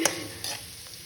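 Garlic frying in a pan while being stirred, a brief close sizzle with two quick scrapes of the spoon, no speech.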